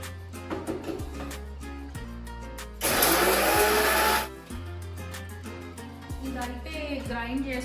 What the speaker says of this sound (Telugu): ఇదైతే గ్రైండ్ చేసుకున్నాం కదా ఇదెంత బాగా పౌడర్ లాగా అయ్యిందో